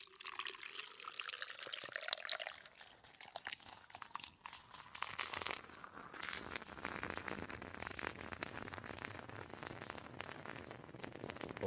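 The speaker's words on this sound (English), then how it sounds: "Pour, pour, pour, pour, pour, pour." A drink is poured over a glass of ice, starting with a rising liquid stream and turning into a steady close splash with crackling, crunching ice, and no one talking.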